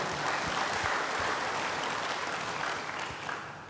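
Church congregation applauding, a dense, sustained wash of clapping heard somewhat distant, steady throughout and fading slightly at the end.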